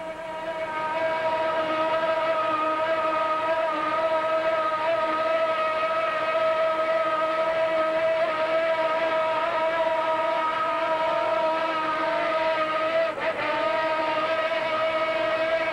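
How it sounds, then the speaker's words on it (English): Lamborghini-powered engines of a red Cougar Cat offshore racing powerboat at the 1990 New York Grand Prix hold a high, steady RPM wail, loud and continuous with no letup in throttle. "And just listen to the RPM level of these engines."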